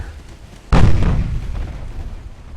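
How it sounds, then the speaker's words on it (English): A torpedo hit from a naval battle in Ultimate Admiral: Dreadnoughts, featuring the IJN Mogami, lands as one loud sudden boom that rolls off into a long rumbling tail over steady low background noise. "that's our torpedoes, so it's not very scary"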